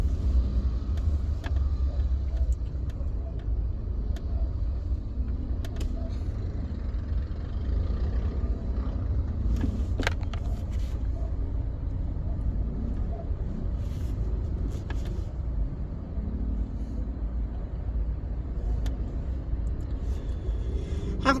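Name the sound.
road traffic, cars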